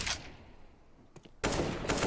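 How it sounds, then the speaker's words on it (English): MP9 submachine gun fire in Counter-Strike on the Dust 2 map, a short crackle early, a few faint pops, then a loud rapid burst of 9mm rounds rattling steadily through the final half second. "He keeps that MP9 rattling off those little 9mm."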